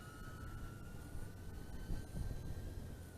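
Emax Tinyhawk FPV racing whoop drone throttling up, its tiny motors giving a steady high whine over a faint rushing noise, fairly quiet and continuous, with no talking.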